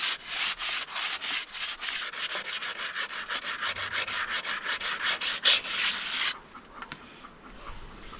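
A diamond willow walking stick is sanded by hand with 100 grit sandpaper, giving close, rhythmic back-and-forth rasping strokes at a brisk steady pace that stop abruptly, leaving faint handling noise.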